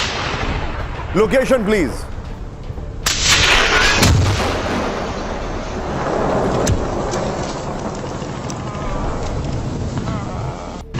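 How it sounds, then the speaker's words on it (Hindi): Gunfire and a rocket strike on a Hezbollah sniper position ring out in a combat zone, several sharp booming blasts and cracks scattered over rumbling background noise, with brief voices speaking in between. "हिजबुल्लाह स्नाइपर कर रहा था फायरिंग, ये देखिए जरा। आईडीएफ पर फायरिंग के दौरान रॉकेट से हमला किया गया।"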